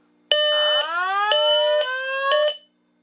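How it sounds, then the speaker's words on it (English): A loud low-frequency fire alarm sounder on a Simplex 4100ES system sounds in several sustained bursts with short breaks, a rising sweep in between, then cuts off. "as you can hear, the low frequency sounder is very loud, and we do have the new evac message there, which Nick helped me get."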